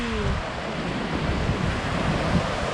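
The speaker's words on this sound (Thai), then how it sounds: "วันนี้เราก็ลงมาเดินดู ริมหาดนะคะ หาด EOD" Surf washing onto the shore at EOD beach (Napa Thara Phirom), a steady, continuous roar of breaking waves mixed with wind buffeting the microphone, with no talking.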